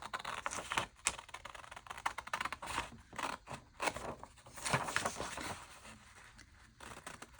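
A paper piece for a journal is cut out with scissors in quick, uneven snips, with some light rustling and handling noise. The sound is faint and close, with no one talking.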